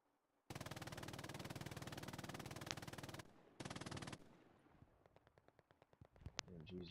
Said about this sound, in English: MG's just ripping Gurkha over here.